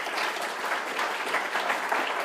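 A live audience claps steadily for a video journalist at the back of the room running the camera, a dense, sustained round of hand-clapping with no voices over it.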